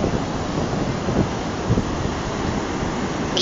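Heavy ocean swells at Playa Asia in Lima roll and wash steadily under strong wind rumbling against the microphone, a continuous dense roar with no talk.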